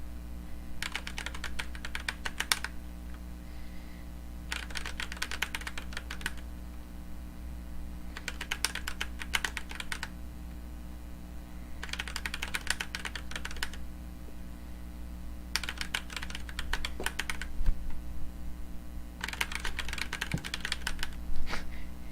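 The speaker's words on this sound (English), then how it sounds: "Can I get one combo break on this mechanical keyboard?" Rapid bursts of clicky typing on a mechanical computer keyboard come in about five separate flurries of a second or two each, close and fairly loud over a steady electrical hum from a desktop PC setup.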